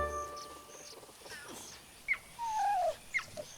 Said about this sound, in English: It's Umzali calling little Usana back from her adventure.